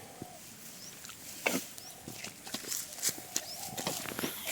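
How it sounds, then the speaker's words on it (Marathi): Footsteps squelch and slap through a waterlogged, muddy paddy field during harvest time, each step a wet, close thud in an uneven walking rhythm. "पाय रापा रापा जात आहेत"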